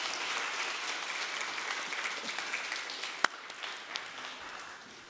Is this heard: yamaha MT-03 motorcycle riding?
no